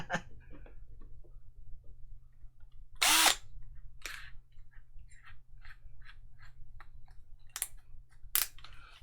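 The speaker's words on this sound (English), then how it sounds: "We'll just give it a little drill on." A Dremel rotary tool drills into a brass vaping mod with brief, bright bursts, a couple of louder grinding spurts among quieter ticks and handling sounds against a low steady hum.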